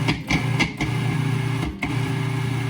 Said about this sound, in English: I'm going to put that in the food processor and give it some pulses